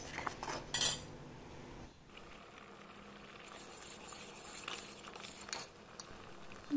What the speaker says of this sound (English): Add 1 spoon sugar, mix it well